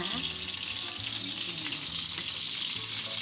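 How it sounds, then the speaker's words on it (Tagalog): Skin-on chicken pieces fry in a pan with a dense, continuous sizzle and spatter heard up close, steady for the whole stretch with a few faint stirring knocks and no talking. "So yung may skin siya ang ilalagay ko dito banda. So yan na, fry na sila."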